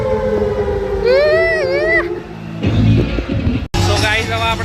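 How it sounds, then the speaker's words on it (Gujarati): At a water park, a wailing siren signals the start of the wave pool, rising and falling in loud sweeping tones, followed by crowd noise and another burst of siren. "આ સાયરન જે વાગે એ છે ને વેવ પુલ ચાલુ થાય ને, ઓલું દરિયા જેવા મોજા એનો છે"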